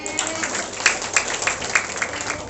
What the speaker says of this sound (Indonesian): Tepuk tangan Tuhan.